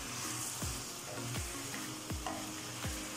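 Mutton karahi cooking over a high flame, a loud continuous sizzle broken by about five regular, sweeping scrapes of a spoon through the pot.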